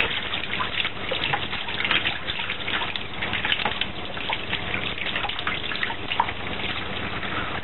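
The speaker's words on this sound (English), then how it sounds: "Just wash my hands." Tap water runs steadily into a kitchen sink during handwashing, a continuous close splashing gush with small irregular spatters and no voices.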